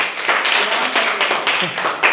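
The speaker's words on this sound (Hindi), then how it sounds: "तालियां हो इनके लिए" Quick burst of classroom clapping for a schoolboy at a government school in Uttar Pradesh, uneven claps from a small group of pupils close by, lasting about two seconds with voices mixed in.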